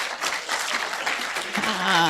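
A church congregation claps during a Sunday service, a dense, steady wash of many hands throughout, with a brief voice-like tone rising near the end.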